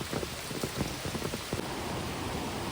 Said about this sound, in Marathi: पावसाची रिपरिपसुद्धा कंटिन्यू चालूच आहे